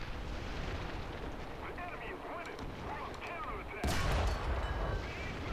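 Tank cannon firing in the War Thunder video game, with a sharp loud blast partway through over a continuous rumble of battle noise, while a player talks throughout.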